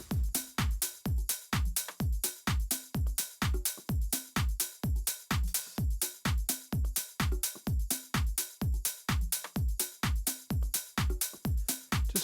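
Grouped drum kit processed with Valhalla Room reverb, a steady loud pattern of punchy kick and snare hits with reverb tails, repeating evenly without any voices.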